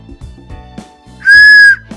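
A homemade train whistle made from PVC pipe gives one loud, clear, steady blast lasting about half a second, preceded by soft tapping and handling knocks.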